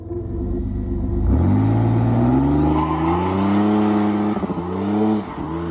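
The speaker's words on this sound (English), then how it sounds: "I'm going to try and get this alternator pulley belt squealing issue resolved." Car engine running with an alternator pulley belt squeal, a loud rising whine over the engine's drone that climbs and holds, wavering near the end, no talking.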